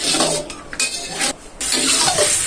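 Chicken curry simmers in a pot while a spoon stirs it, giving clinking, scraping strokes over a soft sizzle with a couple of short pauses between bursts of stirring.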